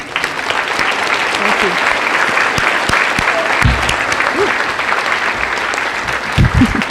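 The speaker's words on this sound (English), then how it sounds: "I would like to give them all a round of applause." Loud audience applause at a Veterans Day celebration honouring veterans, a thick continuous patter of clapping with a few brief voices and bumps mixed in.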